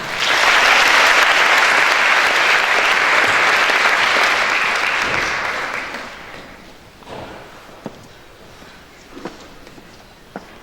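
Large audience applause welcoming a lecturer at a Harvard lecture event, loud and full for about six seconds, then fading into a few scattered claps and footsteps.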